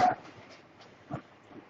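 A dog gives a short, fairly close whimpering yelp at the start, then a second brief bark-like yelp a moment later, with quiet background between.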